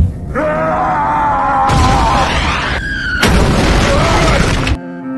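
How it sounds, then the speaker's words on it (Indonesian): Loud, booming cannon blasts roar out in two heavy bursts, thick and rumbling, over a sustained tone before cutting off abruptly. "orang yang bernama Kujiranami untuk meluncurkan tembakan meriam."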